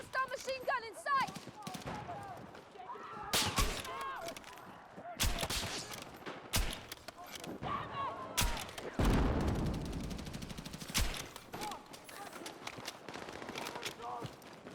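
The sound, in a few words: machine gun fire in the video game Battlefield 6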